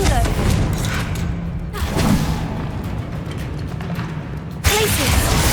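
Confringo blast spell in Hogwarts Legacy bursts with a loud booming explosion, followed by rumbling debris and a second sharp impact near the end, with no talk over it.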